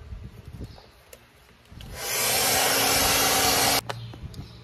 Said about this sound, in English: Not a bad idea to heat this up a little bit with a hairdryer.